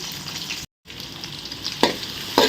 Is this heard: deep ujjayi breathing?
no